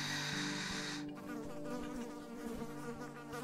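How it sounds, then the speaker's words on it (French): A bee buzzes close by in a quiet outdoor shady spot, a steady insect drone that holds through the whole stretch with a faint repeating tapping underneath, and no one speaks. "Cette abeille ne te voulait aucun mal."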